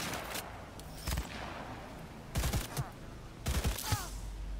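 Shots from the Skippy pistol in the video game Cyberpunk 2077, fired in three short, quick bursts of a few rounds each, fairly faint against a low background hum, with no talking.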